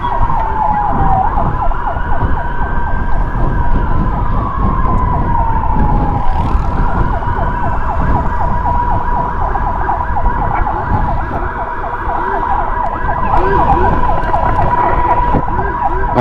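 Ambulance sirens wail loudly and continuously during an escort through traffic, with rising and falling tones over a dense engine and road rumble that stays close throughout.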